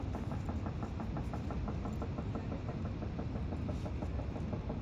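Road construction machinery working on the mountain road between Kaza and Manali near Chhatru, a steady engine drone with a rapid rhythmic knocking pulse running through it, continuous and fairly loud, with no voices.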